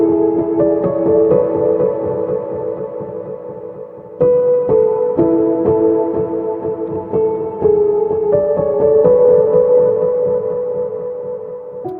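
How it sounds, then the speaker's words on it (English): A lo-fi piano melody in FL Studio: soft, sustained chords and notes that change every few seconds, played steadily and warmly up close with no one speaking. "So here I came up with a little sort of piano melody to play in the background."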